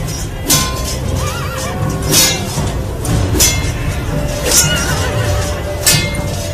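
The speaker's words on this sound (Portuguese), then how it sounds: "o relinchar de um cavalo em dor" A horse whinnies and neighs repeatedly, loud and close, in a battle scene with clinks and crashes mixed in beneath the calls.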